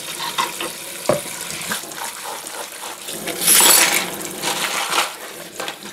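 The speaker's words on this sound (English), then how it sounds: "By the time you've rinsed it a few times and there's no more spirits or WD-40 on" Tap water runs over small metal guitar hardware in a sink, a soft steady splash with scattered metallic clinks and one brighter gush partway through.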